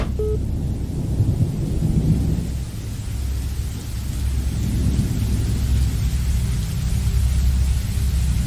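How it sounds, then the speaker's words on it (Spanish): Steady heavy rain pours through a thunderstorm, with low rolling thunder swelling and fading underneath, loud and close throughout. "refugiándose de la tormenta"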